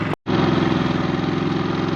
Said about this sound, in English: The little generator did its job.